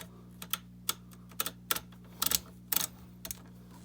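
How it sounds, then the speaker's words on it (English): Sharp mechanical clicks arrive in short irregular bursts, some single and some doubled, over a faint steady hum, with no talking. "every time you spin, you can hear clicking noise"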